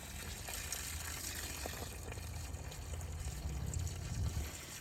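Water splashes and pours steadily onto garden plants, a continuous soft trickling hiss with no voices.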